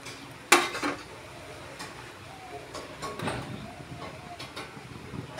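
A metal lid clanks down onto a cooking pot in a home kitchen, one sharp ringing hit followed by a few softer rattles as it settles, then quieter clinks and kitchen noise.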